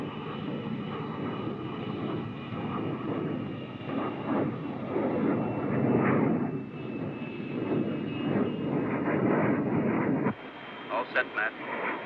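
An X-15 rocket plane lands in 1961 with its skids lowered, its roar muffled and narrow as if heard over a radio link, while voices talk over the steady engine noise.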